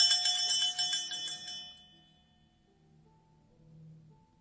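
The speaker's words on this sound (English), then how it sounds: "Group number 2 has this antique kind of handbell," An antique handbell shakes in a quick cluster of bright, jangling rings, then falls silent and leaves a faint lingering hum.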